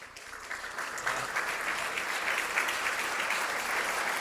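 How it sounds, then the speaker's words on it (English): Steady audience applause fills a breakfast hall at a youth sports volunteer recognition event as past honorees stand, a dense, even wash of clapping throughout with no talking. "All past honorees, I want you to stand up so we can give you a round of applause"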